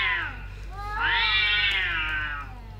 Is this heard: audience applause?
no